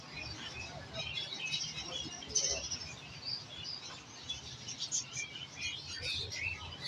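Lovebirds at a bird market chirping in scattered bursts of thin, high tweets over a low crowd murmur and background bustle, fairly faint and at middle distance.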